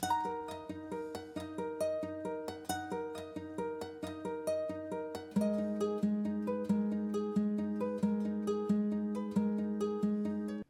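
Looped ethnic-style guitar, passed through tape effects, reverb and guitar pedals and pitch-shifted, plucks a steady rhythmic pattern of repeated notes that shifts to a new register midway, quiet and with no voices.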